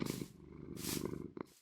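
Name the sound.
cat purring in video game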